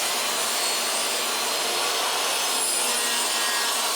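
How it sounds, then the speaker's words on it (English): A miter saw slices through wood for the sides of a rectangular workbench frame, a loud, steady, high whirring cut filling the short stretch without pause or voices. "I started by cutting down the 4 sides of that basic rectangular frame on my miter saw"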